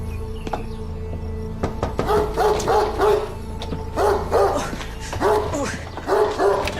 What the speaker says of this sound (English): You afraid of dogs?